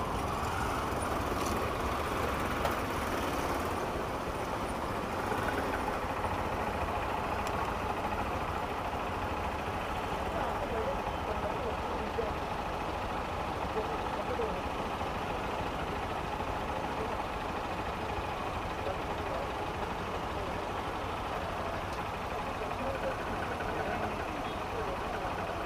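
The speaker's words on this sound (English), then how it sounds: "Maneuvering through the traffic." Idling cars, trucks and buses stuck in a Mumbai traffic jam, a constant low engine rumble with steady street noise throughout, no single vehicle standing out.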